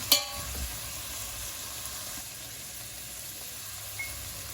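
Meat and a red pepper fry in a pan for Turkish bean stew, a steady close sizzle with a sharp clatter at the start and a faint tap near the end, and no voices.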